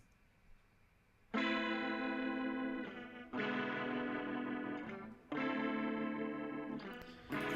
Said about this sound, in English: It's got a cool tremolo sound on that one. Oh, bit of echo there.